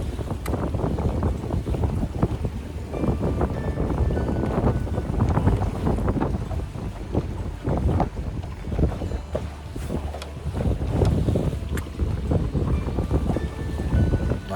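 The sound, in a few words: strong wind blowing on Lake Okeechobee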